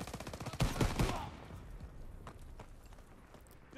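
Gunfire from a Call of Duty WW2 D-Day landing battle: a loud burst of rapid shots in the first second, then fading battle noise with a few distant, fainter reports.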